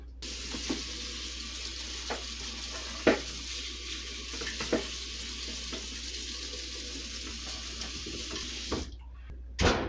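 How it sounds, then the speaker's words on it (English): Tap water runs steadily into a kitchen sink as food is rinsed, a continuous soft hiss with occasional clunks and taps of items against the basin. "We're going to run this under the water in the sink"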